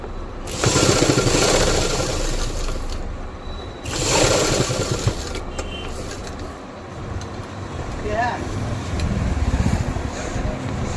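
A sewing machine stitching pants waist fabric runs steadily with a continuous mechanical whir and rapid needle rhythm, briefly pausing and restarting, close and fairly loud.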